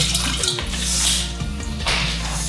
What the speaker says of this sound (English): And then let's get a bit of our water in.